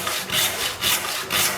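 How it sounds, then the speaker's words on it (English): A hand saw with 8 points per inch cuts upright through a narrow wooden board in steady back-and-forth strokes, about three rasping passes, close and loud with no talking. "I do this upright sawing technique"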